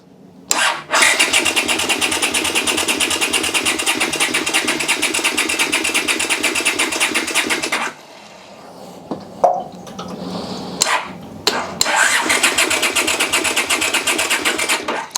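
An old Honda motorbike left unused for 25 years cranks hard on its starter, a loud sustained churning run of about seven seconds, a brief pause with small knocks, then a second long cranking attempt without catching.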